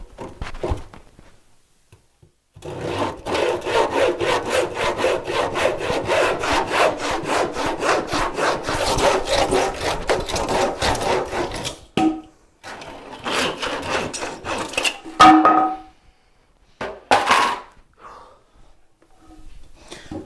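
Hand saw cutting through wooden legs for a rough cut with a dull blade, a long run of fast, rhythmic rasping strokes close up, then a pause and a few short final strokes as the piece drops.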